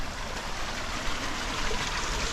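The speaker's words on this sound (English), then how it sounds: "You can hear all the water." Water rushes steadily down through the Beitou hills at night, a constant, fairly faint broadband flow with no voices.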